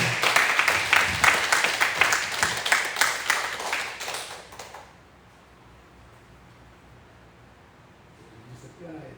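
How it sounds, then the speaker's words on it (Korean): A church congregation at a Korean revival meeting breaks into vigorous applause, a dense crackle of clapping that lasts several seconds before fading away into a quiet hall. "힘차게 우리 격리에 축하 박수 한번 드립니다"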